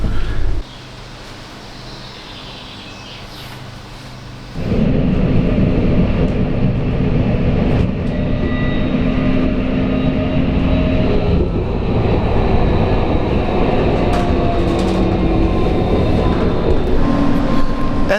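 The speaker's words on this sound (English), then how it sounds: "Now I'm going back with the same exact train." A Hamburg U1 metro train heading back from Volksdorf is heard from inside the car: a quieter idle, then the train pulls away and settles into a loud, steady rumbling roar with faint rhythmic rail clatter.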